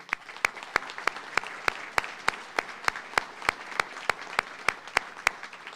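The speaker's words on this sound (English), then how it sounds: "I'd like to give a round of applause to everybody here" Steady applause at a university honors college graduation ceremony, recognising the graduates' families and supporters, heard as a regular rhythm of sharp, fairly close claps over a softer wash of crowd clapping throughout.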